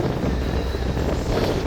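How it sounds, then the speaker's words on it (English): Steady wind buffets the microphone with a low, rumbling roar that continues without a break, on the coast at Tsilivi, Zante, Greece. "Ooh, a little bit windy today."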